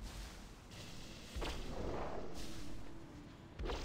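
A bomb enemy in a multiplayer video game howls, a droning, rising whine that swells mid-clip over a steady rumbling game backdrop, with sharp booming bursts before and after it; no talking.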